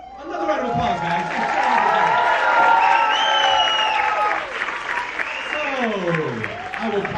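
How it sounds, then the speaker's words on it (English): A crowd at a school end-of-year band presentation claps and cheers loudly for several seconds, with voices and chatter mixed in throughout the applause. "Another round of applause, guys."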